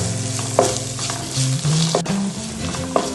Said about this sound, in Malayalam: ഒരു നീരുള്ളി, ഒരു കഷ്ണം ഇഞ്ചി, ഒരു 5 വെളുത്തുള്ളി, 3 പച്ചമുളക് എല്ലാം ഇട്ട് നന്നായി ഒന്ന് ഇത്